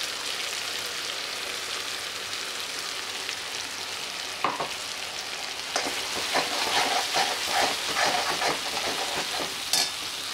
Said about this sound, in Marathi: आता आपण वाटून घेतलेलं वाटण टाकूया त्यात.